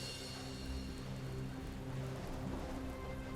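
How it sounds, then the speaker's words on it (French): Steady heavy rain pours down in a dense, continuous hiss, with a low rumbling undertone throughout and no voices. "il s'agit d'une forte tempête."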